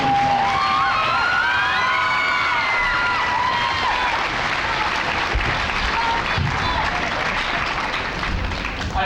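A large audience at an evening church stake roadshow claps and cheers loudly and steadily, with whoops and shouting voices rising over the sustained applause throughout.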